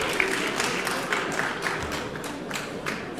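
An audience at a sports awards ceremony in Soustons applauds a Landes golf champion, a moderately faint, steady patter of clapping from a mid-sized crowd lasting a few seconds.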